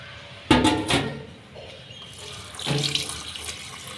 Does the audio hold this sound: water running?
yes